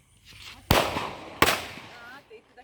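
Deepavali firecrackers burst with two loud, sharp bangs about a second apart, each followed by a short rumbling tail. Voices talk nearby between the blasts.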